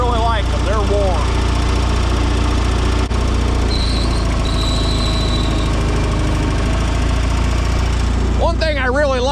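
A small Allis-Chalmers 720 tractor engine runs steadily at a low, even drone throughout while pushing snow, with a voice talking over it at the start and end.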